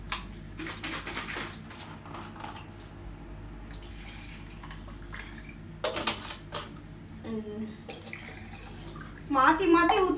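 Liquids are poured back and forth while a no-cook dish is made in a quick fireless cooking challenge, with splashing water and clinking dishes in bursts as a person talks throughout.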